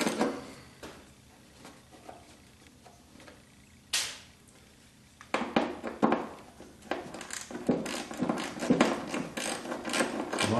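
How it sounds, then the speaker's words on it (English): A ratchet on an extension loosens body mount bolts on a 1976 Corvette, giving a close clicking ratchet, a sharp crack as a bolt breaks free, then steady fast ratcheting. "A little extension is useful to get you out to where you can get a swing on the ratchet."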